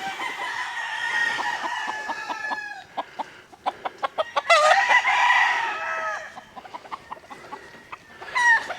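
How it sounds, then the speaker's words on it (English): A colorful ranch rooster crows and clucks nearby, bursts of harmonic calls breaking into a run of short sharp clucks and another crow near the end, with no talk over it. "He's a good looking rooster there."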